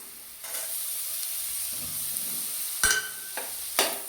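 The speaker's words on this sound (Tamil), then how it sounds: "எண்ணெயை ஊற்றிட்டு சோம்பு போட்டுட்டு அதுக்கப்புறம் வெங்காயம் போட்டு நல்லா ஃப்ரை பண்ணிக்கணும்" Onions and fennel seeds fry in oil with a soft, constant sizzle, broken by a few sharper stirring scrapes and crackles near the end.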